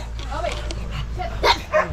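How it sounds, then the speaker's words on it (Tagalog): Dogs bark and yip a few times in an outdoor setting, short sharp calls rising over steady background hum while someone talks throughout. "Yan lang po yung mga aso nila dito sa pinasyalan natin na lugar."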